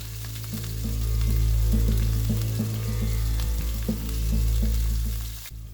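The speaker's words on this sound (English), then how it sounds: "I am cooking it in some sesame oil before adding the rest of the ingredients" Steak frying in sesame oil in a pan for kimchi jjigae, a steady close sizzle with faint stirring clicks and a low hum underneath, with no voices.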